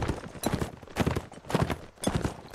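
Horse hooves clip-clop in the Mount and Blade video game, a steady walking rhythm of paired hoof strikes, close and clear with nothing else over them.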